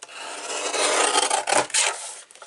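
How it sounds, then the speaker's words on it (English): Paper trimmed down for a mini album, a continuous close rasping scrape lasting a couple of seconds, rising and dipping in loudness as the blade slides along the sheet. "So now I'm going to trim this down by 1/4."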